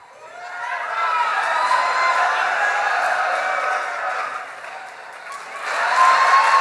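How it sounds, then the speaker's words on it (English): A live podcast audience at ID10T Fest 2017 breaks into sustained applause and cheering that swells, dips slightly, then rises again, loud and unbroken, with no talking over it. "This is the most applause you've ever gotten."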